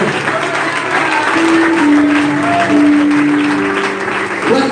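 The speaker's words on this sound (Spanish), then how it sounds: "Dele aplauso al Rey, que ya viene al Señor" A church congregation claps together in steady, loud applause, with sustained tones, likely music or voices, running underneath throughout.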